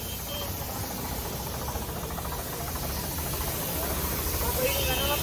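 Chemical mixed with diesel sprayed under pressure onto a 3630 tractor during washing, a steady loud broadband hiss running continuously close by, with a constant engine-like rumble underneath.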